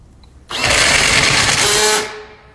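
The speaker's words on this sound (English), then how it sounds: "here we're gonna show and replicate what the drill does when it clutches out" A RIDGID FlexShaft drain cleaning machine driven by a drill, the drill clutching out in a loud, steady grinding whir that starts abruptly, runs about a second and a half, then cuts off.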